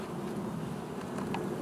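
A honey bee drone buzzes close by during an open hive inspection, a steady droning hum that holds for the whole short stretch with no voices.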